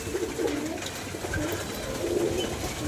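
Pigeons cooing at a pigeon loft, a low soft coo repeating in rounds across the clip over steady background noise, moderately close.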